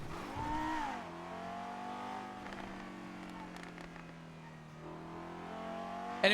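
A car engine in the NoPixel GTA roleplay video game hums and revs with a steady droning pitch that swells and dips, along with a voice in the background.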